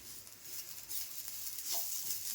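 Ginger and garlic cloves roasting in a pan, with a faint, steady sizzle and hiss throughout and no talking.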